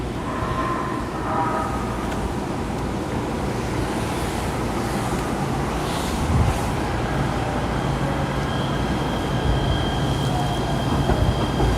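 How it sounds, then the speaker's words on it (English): A Los Angeles Metro E Line light-rail train passes nearby, a loud, steady rumble with wheel clatter and faint squealing that holds throughout without a break. "That's my train. That's the one I take back to the beach."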